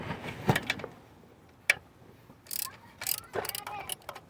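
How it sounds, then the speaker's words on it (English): A 10 mm ratchet undoing the throttle body bolts on a 2009–2011 GMC Acadia, a few short bursts of clicking ratchet strokes and metallic taps, close and fairly quiet, separated by brief pauses. "we're going to use the 10 mil and we're going to undo the 4 bolts that's holding the throttle body to the intake manifold"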